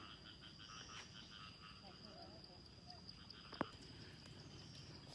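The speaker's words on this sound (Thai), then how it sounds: "คืนนี่ตามเบิ่งนะเสียงกบ" Frogs croak steadily through a night-time wetland scene, a dense chorus of calls over a continuous insect-like hum, with one sharp louder click partway through.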